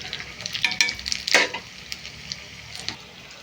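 Mirchi bajji, batter-coated chili fritters, frying in hot oil, a close crackling sizzle with a few louder bubbling bursts, stirred about in the pan, no one talking.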